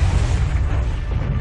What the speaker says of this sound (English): The explosion sends a trail of fiery fragments toward the continent below.